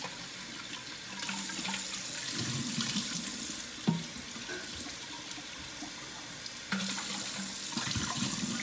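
Filtered kitchen faucet running water into a bottle, a quiet steady splashing stream that swells and eases in intensity, with a small knock partway through.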